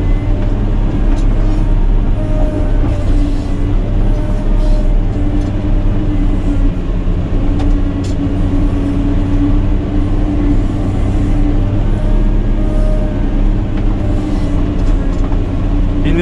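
A Caterpillar 120K motor grader on new traction tires works through mud and brush while opening a new street, its engine holding a loud, steady, close-up drone from start to finish.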